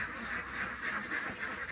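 Ducks quack on a duck farm, a faint continuous chorus of many birds at a distance with no talking.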